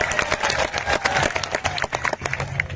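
Crowd applause fills a large pandal tent at a tribal unity gathering in Jhabua, a dense continuous clatter of many hands clapping, close and loud throughout with no talk over it.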